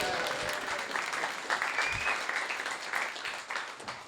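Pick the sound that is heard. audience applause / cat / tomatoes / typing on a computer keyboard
audience applause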